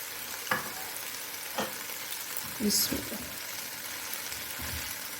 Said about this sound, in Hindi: तो इनको मैं अच्छे से 2 से 3 मिनट के लिए कि ये इनका कच्चापन ख़त्म हो जाए, इतना सिर्फ इनको मैं भून लूँगी यहाँ पे